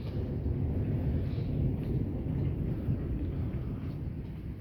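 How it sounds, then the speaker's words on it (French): A strong May thunderstorm with heavy, driving rain, thunder rolling as a deep, continuous rumble under a dense wash of downpour, loud and steady throughout. "Et je pensais pas avoir un orage comme ça en mai."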